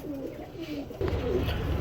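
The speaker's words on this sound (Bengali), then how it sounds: "এই যে দেখেন এখানে আরেক পেয়ার সবুজ এই আপনার সাপচিলা টাইপের কবুতর নিয়ে চলে আসলাম" Giribaj pigeons coo in a few soft, rolling calls close by, over a steady background hum that grows louder partway through.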